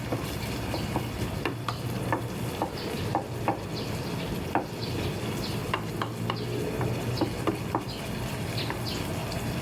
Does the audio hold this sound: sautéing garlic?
yes